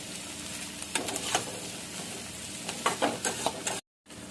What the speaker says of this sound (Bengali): এখন দিয়ে দিচ্ছি পেঁয়াজ আর কাঁচা লঙ্কা, বেশ একটু ভালো করে ভেজে নেব